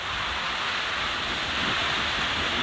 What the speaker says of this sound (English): That tropical rain is here.